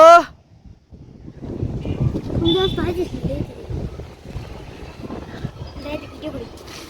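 Gusty wind buffets the microphone near the sea, a steady low rumble running throughout beneath several people talking and laughing.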